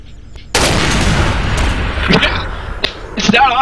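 A single sharp gunshot from an M9K weapon in Garry's Mod cracks loudly and rings out with a booming tail, followed by faint game sounds and a few short clicks.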